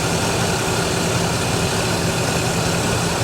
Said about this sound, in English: I hear the noisy bearings and the alternator